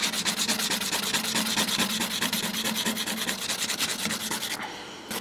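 Steady rhythmic rasping as a file works artificial nails, quick even back-and-forth strokes, close and moderately quiet, with no talking.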